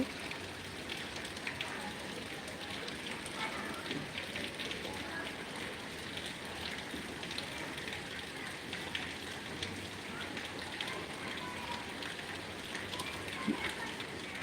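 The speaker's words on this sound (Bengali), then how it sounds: "দেখেন কি পরিমাণ বৃষ্টি নোয়াখালীতে কি পরিমাণ বৃষ্টি দেখেন" A steady downpour drums across surfaces in Noakhali, Bangladesh, a constant close wash of falling rain with small spikes of louder drops and no pauses.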